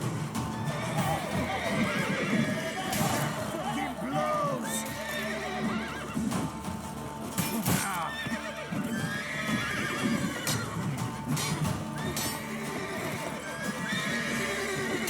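A horse neighs and its hooves clip-clop in The Witcher 3, loud and continuous, mixed with game music and effects, with someone talking over parts of it.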